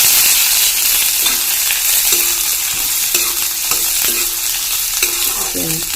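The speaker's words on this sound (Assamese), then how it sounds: "এতিয়া গোটেইখিনি লৰাই লওঁ।" Garlic and ginger, added with onion to a pan for moong dal, fry with a steady sizzle while a spoon scrapes and stirs in regular strokes, about one per second, close and fairly loud.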